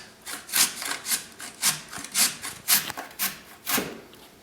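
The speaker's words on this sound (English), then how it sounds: "cut the carrot into a longer piece, say about a 2-inch piece, and grate it lengthwise" A carrot cut into a roughly 2-inch piece is grated lengthwise into long shreds, giving about a dozen loud, close rasping strokes in an even back-and-forth rhythm with brief pauses between them.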